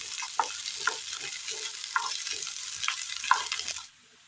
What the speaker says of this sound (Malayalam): സബോള അരിഞ്ഞത് ചേർത്ത് കൊടുക്കാം. നല്ലതുപോലെ ഒന്ന് വാട്ടിയെടുക്കാം.